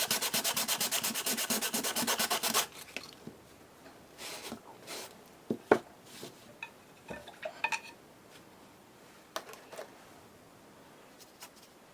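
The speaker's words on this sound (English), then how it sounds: "Put a layer on, scrape it back." A wet layer of mixture is scraped back across canvas in fast, rhythmic rubbing strokes for a few seconds, followed by scattered soft taps and scrapes, close and moderately quiet.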